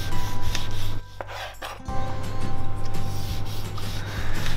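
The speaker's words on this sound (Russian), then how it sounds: "Режем помидорку." A knife slicing a tomato into rings for a baked meat dish: steady rubbing cuts over a constant background hum, close and fairly loud, briefly pausing in the middle before resuming.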